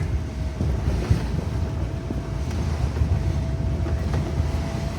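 A Suzuki Jimny fitted with a Motorfarm 3-inch full suspension lift kit drives over bumpy ground, giving a steady low rumble of road and cabin noise with a few soft knocks and thumps throughout.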